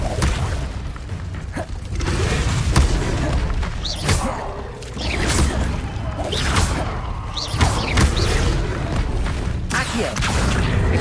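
Explosive Confringo spell blasts in Hogwarts Legacy, several heavy booms and crashes with whooshing spell casts recurring every couple of seconds amid continuous combat noise.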